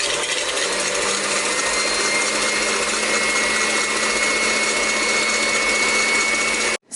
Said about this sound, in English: I have attached my whisk and I'm going to start whisking this.